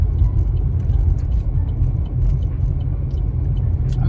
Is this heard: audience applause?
no